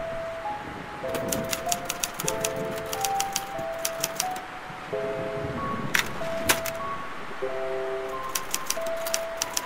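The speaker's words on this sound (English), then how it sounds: "I am the master of typing a paragraph." Typewriter keys clack in quick bursts of rapid strikes while a paragraph is typed in the Scratches horror adventure game, with sustained musical tones humming underneath.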